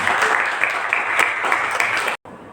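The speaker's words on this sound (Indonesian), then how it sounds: "Tepuk tangan dulu dong buat Alwin." A classroom group applauds Alwin with brisk, dense clapping that stays loud and even, then cuts off abruptly near the end.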